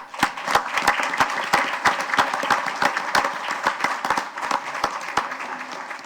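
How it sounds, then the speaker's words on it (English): A council meeting audience applauds scholarship award winners, a continuous round of clapping with distinct individual claps standing out, moderately close and steady for several seconds. "Please give them a round of applause."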